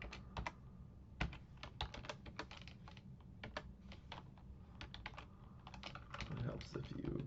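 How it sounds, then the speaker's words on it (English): Typing on a computer keyboard during a software installer setup, a steady run of close, crisp key clicks in irregular bursts with brief pauses, heard alone without talk. "if I can type today"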